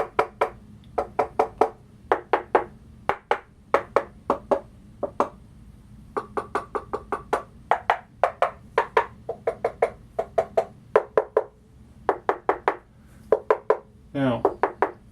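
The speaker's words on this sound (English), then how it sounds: "If you want to see a knuckle wrap test" Knuckles rap on the plinth of a Sony PS-X800 turntable fitted with a custom supplemental plinth. Sharp, close knocks come in quick bursts of several raps each, with short pauses between the bursts, over a faint low hum.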